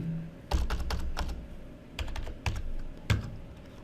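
Numbers being typed into an MS Excel spreadsheet on a computer keyboard: close, crisp key clicks in quick bursts with short pauses between them, no voices.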